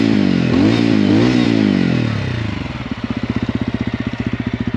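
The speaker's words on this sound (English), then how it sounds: "I'll rev it to you guys." A TVS Ronin motorcycle revs loudly up close: the engine climbs and falls in pitch twice, then settles into a fast, steady, pulsing exhaust idle.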